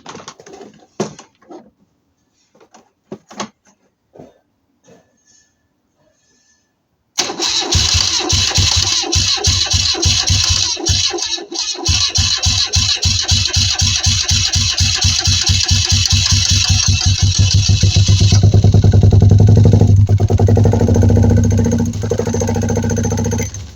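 A 1988 BMW R65 motorcycle, run with the ignition switch bypassed because of a fault, cranks and fires, then settles into a loud, steady running engine note that holds close by for most of the stretch after a quiet start.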